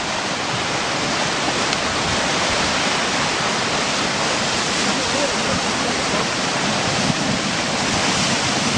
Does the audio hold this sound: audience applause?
no